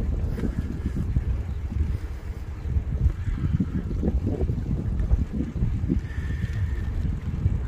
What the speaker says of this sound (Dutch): er is wel veel wind